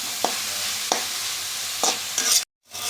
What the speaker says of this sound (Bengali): তো আমি এখন এই তেলের মধ্যে পেঁপেটা দিয়ে দিচ্ছি। এখন আমি এটাকে একটু ভালো করে ভেজে নিচ্ছি।